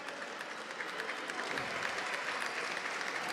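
Home crowd applauding at an amateur basketball game in Istrana, a steady, moderately distant clatter of clapping that swells slightly midway and holds to the end.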